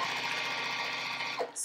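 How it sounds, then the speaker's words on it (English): A sewing machine runs steadily while stitching contrasting 2.5-inch quilt squares into a four-patch with a quarter-inch seam, a fast continuous mechanical whir that stops abruptly near the end. "sew that 4 patch together just as we did before"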